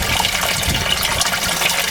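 Water splashes and bubbles continuously in an aerated bait tank, a loud close churning gush with small irregular surges and no voices.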